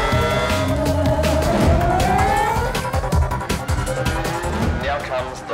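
A Red Bull Formula 1 car at the Singapore night circuit runs close and loud, its engine note rising and falling through the gears, while a voice talks over it.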